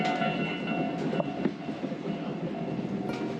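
A stove train running on rails through snowy winter countryside in Japan, heard from inside as a steady rumble with faint rhythmic clicks of the wheels.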